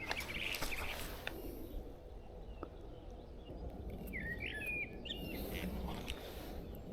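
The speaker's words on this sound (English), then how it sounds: "Oh, it's the blackbird." A blackbird sings in short melodic phrases, faint and somewhat distant, over a steady outdoor background rumble in Norway.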